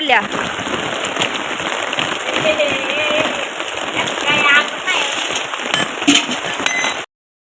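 Rain patters steadily on a house and its makeshift covering, a dense close hiss with scattered drips and clinks, while people talk over it.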